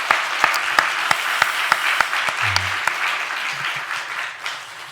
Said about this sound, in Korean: 우리 그 주님께 영광, 박수로 영광 돌리도록 하겠습니다.